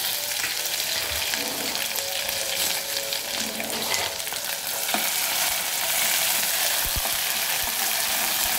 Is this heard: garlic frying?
yes